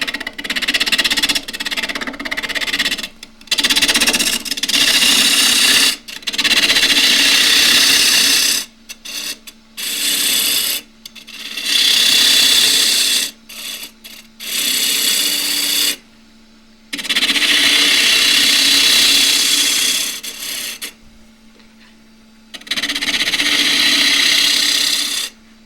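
Wood turning gouge cutting the lid of a large crossgrain box on a lathe, a series of rough, scraping cuts in repeated bursts separated by short pauses, close and fairly loud over the hum of the spinning lathe.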